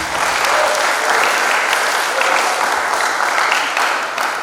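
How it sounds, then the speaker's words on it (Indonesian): Sustained, loud applause from a crowd of parents and guests at a high school graduation ceremony, a dense even wash of many hands clapping that holds steady throughout with no talking over it. "Tepuk tangan untuk anak-anak kita."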